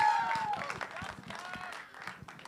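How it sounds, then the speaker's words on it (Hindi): An audience at a Bollywood song launch event claps and cheers for a film star, a scattered burst of applause mixed with crowd noise and an announcer's voice. "कम ऑन, बनती है तालियां यार."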